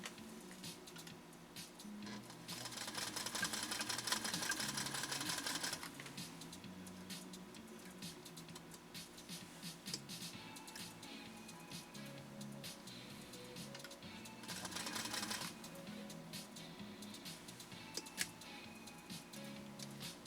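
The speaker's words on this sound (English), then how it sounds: "Let's see how Jean's Featherweight manages this sew off" A 1949 Singer Featherweight sewing machine stitches through two layers of polyester ribbon, a quiet, rapid ticking hum that swells into louder bursts of fast running and then eases back, with no talking.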